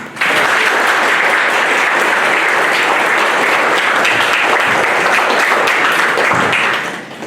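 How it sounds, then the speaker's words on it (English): Loud, dense audience applause at a workshop on Indian poetry in English, sustained clapping from a full room that holds steady for several seconds before tapering off at the end. "Please give a clap for."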